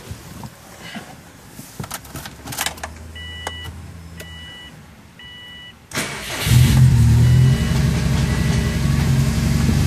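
A Subaru engine fitted with Perrin headers cranks and catches, then settles into a loud steady idle after a few soft chimes and clicks from inside the vehicle.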